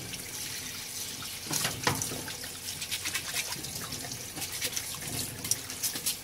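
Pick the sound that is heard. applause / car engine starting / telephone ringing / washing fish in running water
washing fish in running water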